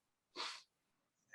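A single sharp sneeze, close and fairly loud, bursts out briefly in a quiet room during a morning talk show, followed by a faint trailing breath.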